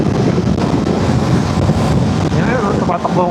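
Loud, steady wind roar buffeting the microphone while riding a BMW F450GS motorcycle at about 100, with a faint voice partly buried beneath the rushing air.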